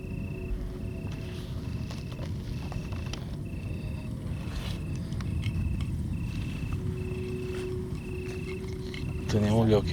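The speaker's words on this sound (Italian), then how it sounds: "intanto sono tutti grilli" Crickets chirp at night near a mountain clearing, a steady high trill running continuously over broad low outdoor rumble, with a brief louder burst near the end.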